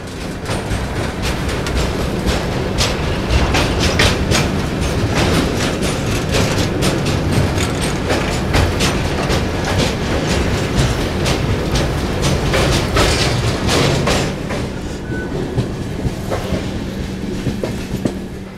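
A train runs loud and steady through the Budni ghats of the Vindhya range near Mid Ghat station, with continuous rumble and rhythmic clickety-clack of wheels on the rails throughout.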